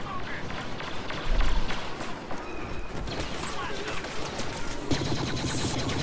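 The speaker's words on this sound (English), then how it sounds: "Okay, A-wing there shooting down on us." An A-wing starfighter fires during a Star Wars Battlefront match, with rapid blaster bursts and crackling impacts mixed into dense battlefield noise.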